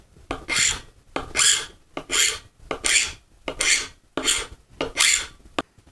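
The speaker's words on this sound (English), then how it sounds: "To remove that oxidized layer, I'm going to go ahead and utilize our FWZ hand scraper." FWZ hand scraper shaving the oxidized layer off plastic pipe for a tapping tee, seven rhythmic rasping strokes in steady succession, close and clear with short pauses between them.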